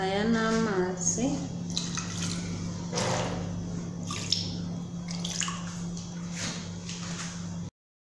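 Water pours into a pot of chicken with a continuous splashing trickle, while a voice speaks over it and a low hum runs underneath.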